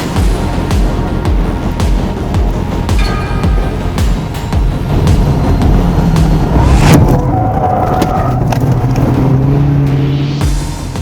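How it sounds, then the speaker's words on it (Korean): A scrapped race car on a track roars and rumbles among other cars, then a sharp broadband crash leads into sliding noise and a lingering engine whine. "차량 충돌이 발생하며 순위는 내줬지만 미끄러지는 차량을 잘 잡은 보민씨다"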